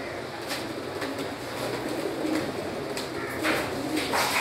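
Pigeon cooing nearby in a rooftop loft setting, soft repeated coos amid a busy background of rustling and ambient noise, no clear talk.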